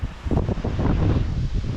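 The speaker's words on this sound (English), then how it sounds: "Bit windy like, bit of a chop on." Steady wind buffets the microphone with a dense low roar, constant and loud throughout, with no voices, at a lakeside fishing spot on Scarborough Mere with choppy water.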